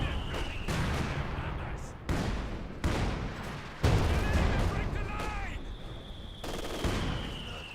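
Artillery barrage from ZiS guns in Company of Heroes 2, a dense rumble of repeated booms and gunfire-like bursts arriving in several loud waves with brief gaps between them.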